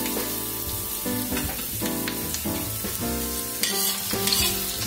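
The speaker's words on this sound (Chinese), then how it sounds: "油热蒜头爆香" Garlic sizzling and popping in hot oil in a wok at the start of stir-fried eggplant, a steady dense crackle with some clatter, alone and fairly loud.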